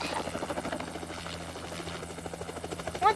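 A helicopter in the Roblox video game thumps with a fast, steady rotor chop and a low engine hum, moderately loud and continuous, with no talking.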